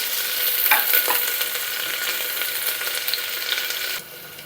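Sliced onions and green chillies frying in a pan for a fenugreek-leaf dal, a steady close sizzle with a few scraping stirs early on, dropping off abruptly near the end.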